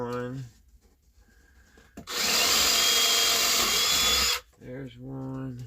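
A power drill bores a hole in a filler project, a loud steady whine lasting about two seconds, with a voice talking before and after it.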